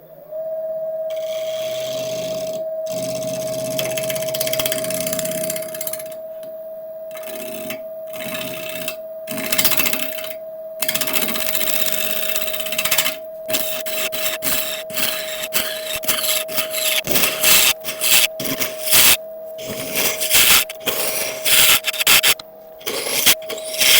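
A wood lathe spins at about 1,000 RPM with a steady whine, while a cutting tool bites the turning wood in bursts of scraping and chattering that grow busier toward the end.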